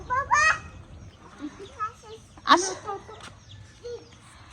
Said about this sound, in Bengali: আইদা তুমি হাঁস মুরগির আদার ইয়ে খাবার দিতেছ